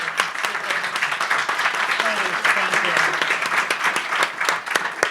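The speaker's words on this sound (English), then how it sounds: "can we get a round of applause for Heather and all of our" Audience applause at a talk on supporting deaf and hard-of-hearing children rolls on steadily as a dense wash of claps, with some voices faintly mixed in.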